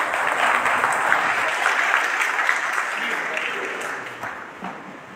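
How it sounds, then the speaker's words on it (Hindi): Sustained audience applause at an environmental and nature service award ceremony, a dense steady wash of clapping from a crowd that holds for several seconds before tapering slightly at the end. "आप लोग ताली बजा के इंतजार"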